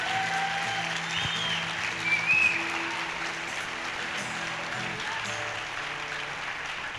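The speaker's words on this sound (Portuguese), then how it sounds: "Aleluia, aplauda o Senhor." A church congregation applauds throughout a worship service, a steady dense wash of clapping that swells briefly midway, with faint background voices and tones underneath.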